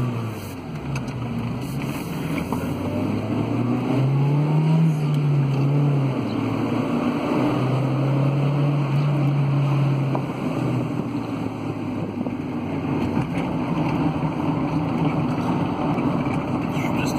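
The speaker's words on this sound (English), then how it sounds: "Got the old 98 Honda CRX going again." A 1988 Honda CRX engine runs on a test drive after years in a garage, a steady drone close by with rising and falling revs, mixed with road and wind noise.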